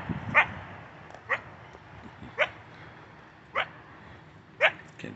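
A small dog barks and yips in five sharp, evenly spaced bursts about a second apart, close by and fairly loud over a quiet background.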